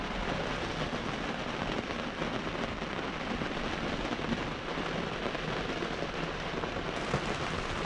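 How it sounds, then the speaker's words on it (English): Steady, dense rain pours down without a break, a continuous broadband hiss close by with no voices, heavy and unchanging throughout. "So it's a proper rainy day."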